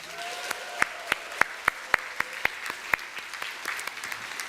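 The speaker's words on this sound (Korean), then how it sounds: "여러분 박수도 치시면서 그냥 축하의 환호 소리가 여러분들이 울려 퍼지기를 바랍니다" A church congregation at a Sunday service applauds for a newly married couple: a steady bed of clapping with a run of sharp, evenly spaced louder claps, and no talk over it.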